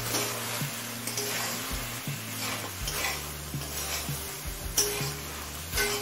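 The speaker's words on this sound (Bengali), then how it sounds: "এবার গ্যাসের ফ্লেমটা মিডিয়ামে করে দিয়ে ভেন্ডিটা সিদ্ধ হয়ে আসা পর্যন্ত রান্না করে নেব।" Okra cooking in a pan over a medium gas flame: a steady soft sizzle with intermittent scraping and clinking of a spatula against the pan, close and moderately quiet, with no voices.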